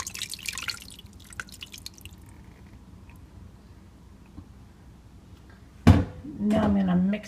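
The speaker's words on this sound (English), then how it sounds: "Now I'm gonna pour it over the meat." A marinade of lime, beef broth and spices is poured over meat, with brief liquid splashing and dripping at the start, followed by quiet and then a few louder kitchen noises near the end.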